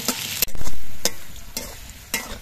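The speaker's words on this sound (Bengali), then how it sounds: "আলুগুলো ভাজা হওয়ার সময় আমি অল্প একটু নুন দিয়ে ভেজে নিচ্ছি।" Potatoes frying in mustard oil with a little salt are stirred in the pan. A few sharp scraping strokes cut through a soft background sizzle.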